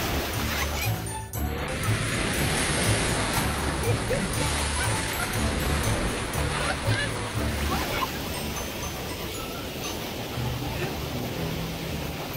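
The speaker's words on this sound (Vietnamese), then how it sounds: "Đi biển để chiêu chữa lành, nhưng sóng vồ vập kiểu này thì không biết làm được kiểu gì nữa." Ocean waves surge and crash onto a beach in a continuous loud roar and wash of surf, with a voice talking briefly over it.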